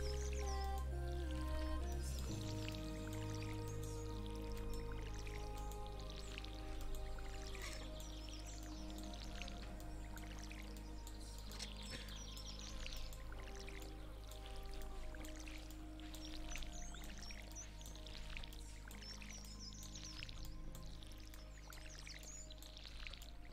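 Water from a watering can pours steadily over crops in a farming game on Bard's farm in summer, a soft continuous trickling stream with a faint musical background and no speech.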